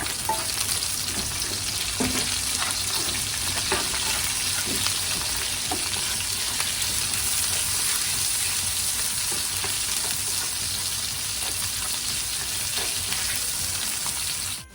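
Garlic, onion and ginger fry in a pan for spicy chicken feet, giving a loud, steady sizzle with a few faint utensil scrapes and no talking.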